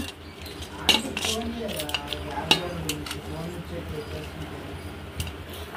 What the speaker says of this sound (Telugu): ఇప్పుడు నేను ఉల్లిపాయ ముక్కలన్నీ వేసుకుంటున్నాను